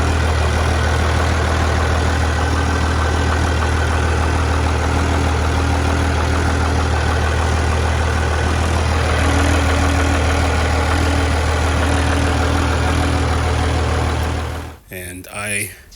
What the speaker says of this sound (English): Let me not forget that the car has a weird rattly noise upon startup,